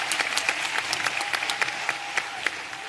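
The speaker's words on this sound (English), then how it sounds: "May we please have a big round of applause" An audience claps steadily at a graduation ceremony, with dense, sustained applause that stays at an even level throughout, with no voices above it.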